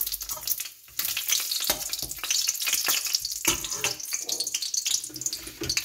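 Radhuni seeds and a bay leaf hitting hot oil in a kadai, a brief crackle followed by steady close sizzling with occasional sharper pops and spatters.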